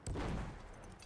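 A distant gunshot from a sniper rifle in the Battlefield video game, a single dull burst with a short fading rumble, faint and heard alone.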